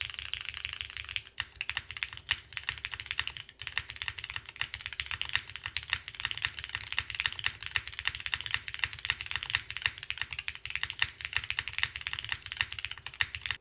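A full-size custom mechanical keyboard clatters under steady, rapid typing, the dense keystrokes continuous and close throughout with no voices.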